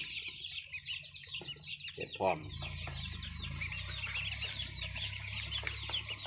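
Rhode Island Red laying-hen chicks peep and cheep in a dense, continuous high chorus, with someone speaking briefly at the start.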